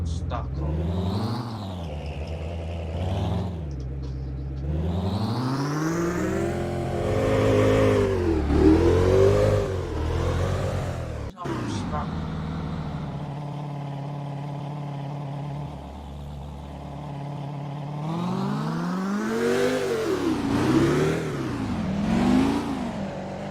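Bugatti Chiron 2016 in the City Car Driving game, its engine revving repeatedly in rising and falling sweeps with shifts, loud and near, interrupted by a short crash-like thud midway.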